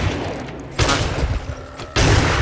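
Blasts in the survival video game 7 Days to Die, two loud booming bursts about a second apart that roll into dense crackling noise, with no talk over them.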